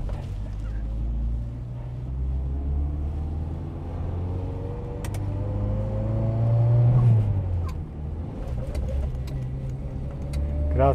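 An old Škoda car engine runs steadily with a low, rough rumble that swells and revs slightly midway, heard close and continuous with a few clicks and knocks, and no talking.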